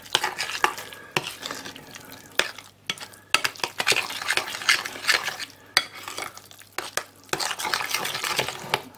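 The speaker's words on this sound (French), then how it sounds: "Et je mélange bien comme il faut tout ça." A spoon stirs tzatziki mixed with homemade apple vinegar and olive oil, making close, repeated scraping and wet clinking strokes against the bowl in uneven bursts with brief pauses.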